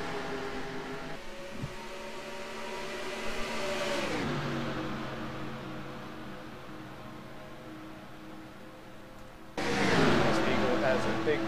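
Stock cars at the green-flag start of a duel race in a racing video game, engines droning and rising in pitch as they accelerate, with a louder surge of engine roar near the end while a commentator talks over it.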